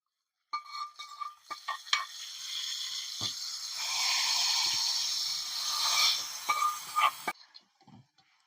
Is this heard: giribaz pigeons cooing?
no